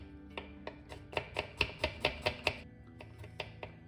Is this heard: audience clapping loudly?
no